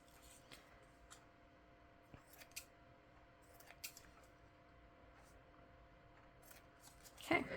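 Scissors snip off the ends of a paper lip balm favor for a Christmas craft fair, a few quiet, sparse cuts spaced across a calm room, with a louder rustle at the very end.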